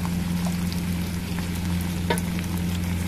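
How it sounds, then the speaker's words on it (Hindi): Onions fry in homemade desi ghee for a nehari tadka, giving a continuous close sizzle and crackle with a few faint stirring ticks and no voices. "घी ऐड कर देना, घर का बना हुआ देसी घी है। और फिर हम वेट करेंगे हमारा प्याज ब्राउन हो जाए"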